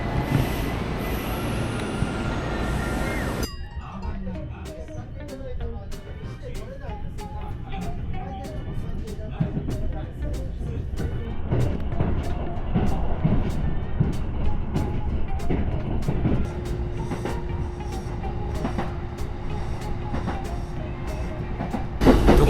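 A train ride in Japan: a steady rumble of the carriage with rhythmic clicks of wheels over rail joints, continuous and close for the whole stretch.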